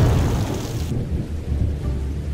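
Rain and thunder in the Minecraft video game, a steady hiss of rainfall over a deep rumbling roll of thunder, loud and close, with no voices.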